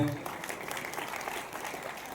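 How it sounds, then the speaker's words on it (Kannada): A short burst of loud clapping rises from the audience at a musical evening of songs, with voices mixed into the applause. "ಜೋರಾದ ಚಪ್ಪಾಳೆ."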